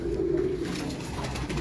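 Pigeons cooing on a Multan rooftop, a low steady coo running through the whole short stretch at moderate level over faint background noise.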